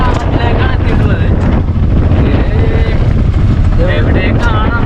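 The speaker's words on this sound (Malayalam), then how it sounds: "നല്ല കാറ്റടിക്കുന്നുണ്ട്" Strong wind buffets the microphone during an auto rickshaw ride, a loud, constant rumbling roar with brief voices over it.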